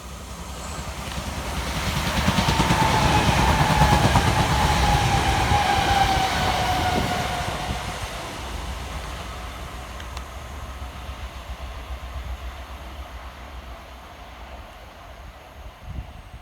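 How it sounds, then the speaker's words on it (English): A Southern Class 377 electric train runs through a station during a storm, swelling from a low rumble to a loud steady roar with a faint whine, then fading into lingering rolling noise. "Next power through the station is 377 616, working 1K31 for Southern from London Bridge through to Epsom"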